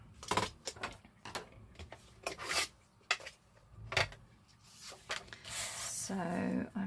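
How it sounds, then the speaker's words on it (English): Scoring a fold line about one centimetre down on a handmade journal cover, heard as a series of short, sharp scratching strokes close by, irregularly spaced, ending in a longer drawn scrape. A voice is faintly present. "So I'm scoring about 1 centimetre down"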